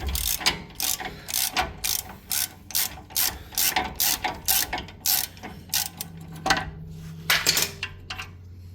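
Rapid bursts of ratchet clicking as Loctite-coated bolts are undone on Chevy Duramax truck brakes, close and fairly loud in short repeated pulls with brief pauses between them.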